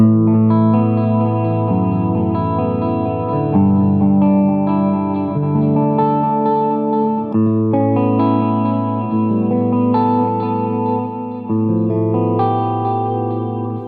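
Sustained guitar chords ring through a wobbly Echoplex EP-3-style tape echo, with repeats and a slight pitch flutter trailing each change.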